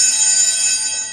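An electric bell rings continuously during a philosophy society talk, a bright steady metallic clang that is loud and close, with no talk over it.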